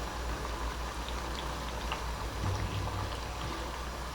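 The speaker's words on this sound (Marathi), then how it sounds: "हे बेबीकॉर्न ना थोडेसे असे अधनमधनं हलवत राहायचे म्हणजे ते सगळीकडनं व्यवस्थित तळले" Baby corn pakoras deep-fry in hot oil, giving a steady bubbling hiss with faint crackles throughout, close and continuous.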